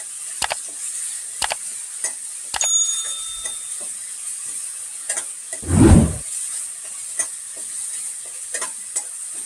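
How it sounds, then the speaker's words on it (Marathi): Ground masala paste sautés in oil for a chawli greens dish, with a faint background sizzle, sharp periodic metallic clicks of a spatula against the pan and one louder rumbling burst midway. "ह्याला मस्त असं मी 1 मिनिटापर्यंत ह्याला चांगलं अशी परतून घेते तेलामध्ये"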